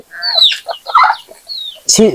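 Desi (native Bengali) chickens cluck and squawk up close in a short, loud burst of several calls, with a sharper cry at the end.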